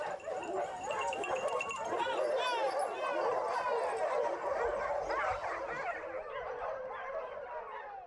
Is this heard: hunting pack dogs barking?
yes